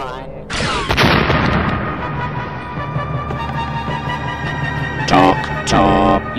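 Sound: cannon firing after countdown

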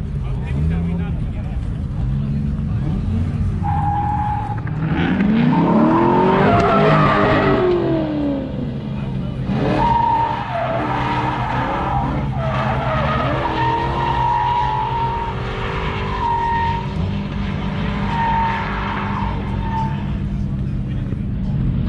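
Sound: Corvette drifting with skidding tires at raceway

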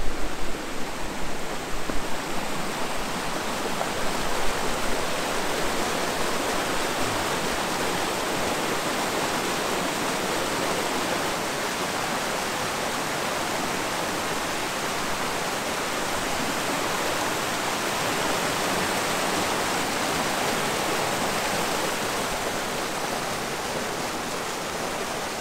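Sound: waterfall

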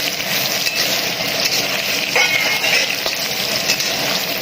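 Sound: frying potatoes and green banana in a pan

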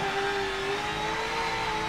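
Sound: V8 Supercar engine hitting the rev limiter in Forza 7 video game

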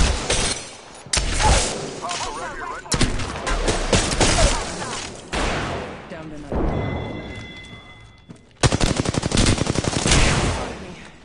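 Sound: gunfire in the video game Apex Legends

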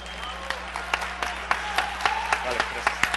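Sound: audience applause at a conference

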